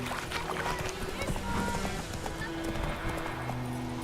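Horse hooves clip-clop at a steady trot in The Witcher 3: Wild Hunt, with a whinny and game ambience. A voice speaks briefly over the hoofbeats.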